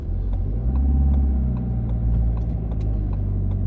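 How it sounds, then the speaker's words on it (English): Car pulling away on a hill start at traffic lights during a road test: a loud, steady low engine rumble held close, rising slightly as it moves off. "So this is going to be a hill start."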